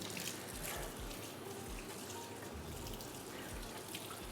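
Water poured onto a freshly repotted plant in its potting mix, a steady faint splashing trickle that runs continuously without voices.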